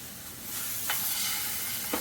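Chicken pieces sizzle in a hot pan just after being flipped, a continuous close frying hiss with a couple of soft taps from the utensil.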